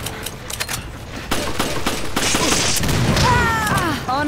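Gunfire in the video game Resident Evil 5, a four-player match on Marshland Island at night: bursts of shots and impacts building into sustained rapid fire with bright metallic effects near the end.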